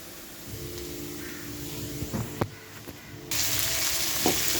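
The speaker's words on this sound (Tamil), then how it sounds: "வெங்காயம் நல்லா இந்த மாதிரி பொறிஞ்சு நம்ம எண்ணெயிலேருந்து பிரிஞ்சு வந்துடணும்" Onions frying in oil for a fish curry, a steady sizzle with spoon scrapes around the middle, then a sudden louder, brighter burst of hissing near the end.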